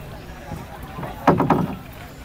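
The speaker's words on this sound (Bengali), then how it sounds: "এখন আমরা যমুনা নদীতে নৌকা করে ঘুরে বেড়াবো, অর্থাৎ নৌ ভ্রমণ।" Boat ride on the Jamuna river near Enayetpur, Sirajganj, with low ambient water and engine rumble, wind on the microphone and a brief louder splash-like burst midway.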